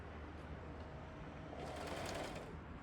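Sewing machine stitching fabric, a steady faint mechanical whir that continues throughout and swells slightly near the end.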